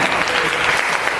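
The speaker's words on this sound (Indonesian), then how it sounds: "Kasih aplaus kelompok 4." A classroom group claps for a student team, giving a short burst of dense, even applause close by, loud and continuous throughout, with faint voices mixed in.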